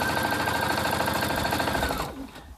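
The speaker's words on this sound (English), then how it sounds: "My sewing machine is really going for it." A home sewing machine stitching baby clothes runs fast and loud with a rapid mechanical chatter and whir, then stops abruptly near the end.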